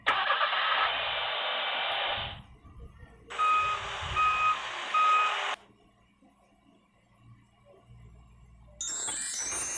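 Two bursts of car reversing beeps, each a sustained electronic tone lasting about two seconds with a gap between them, used as a sound effect in an animated math lesson, followed by a quiet stretch and a brief bright tone at the end.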